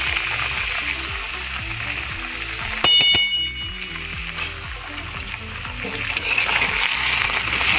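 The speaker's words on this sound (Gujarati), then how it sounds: "આને આપણે ફ્રાય થવા દઈશું." Pointed gourd and potato curry seasoned with salt and turmeric sizzles steadily in a pan, a loud continuous frying hiss with one brief metallic clink partway through.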